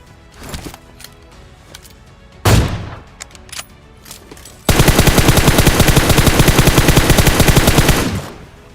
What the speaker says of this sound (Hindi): अब एक बंदे की गोली की आवाज राइट से और एक की सामने से आई थी